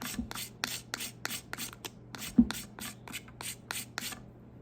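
A sharp 90-degree knife spine scrapes fine shavings from an old lump of pine pitch, making a quick series of short, dry rasping strokes close up and fairly quiet.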